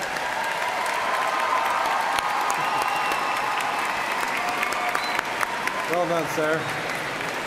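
Sustained applause from a large crowd at a university commencement ceremony for the College of Health Sciences, steady and dense throughout, with a brief spoken line and some faint voices near the end.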